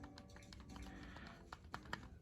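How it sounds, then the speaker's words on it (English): Clicky buttons and direction pad on a mini game console controller, anniversary edition, pressed in a quick irregular series of close, small plastic clicks with no talking. "The buttons, like I said, are a little clicky, but that's fine."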